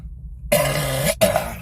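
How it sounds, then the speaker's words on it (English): A single harsh cough bursts out close to the mic, split by a brief gap into two rough expulsions, against a faint low background hum. "I got a cough fit coming on."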